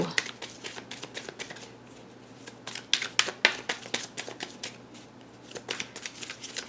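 Tarot cards are shuffled in quick, crisp riffling bursts, a run of sharp papery flicks that pauses briefly and then resumes, close up and fairly quiet.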